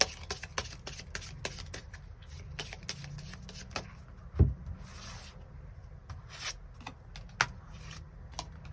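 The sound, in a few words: tarot cards being shuffled and drawn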